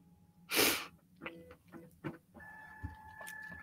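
Malfunctioning printer gives a loud hissing burst followed by scattered clicks, thumps and a steady whining mechanical tone, close by in a quiet room.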